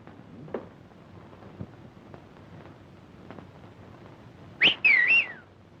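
A person whistles a short two-part signal near the end, a sharp rising whistle followed by a wavering one, loud and close after several seconds of quiet wind-like background hiss.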